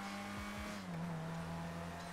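Car on a test drive in GTA 5: two quick revs up front, then a smooth, steady engine drone carrying on close and continuous.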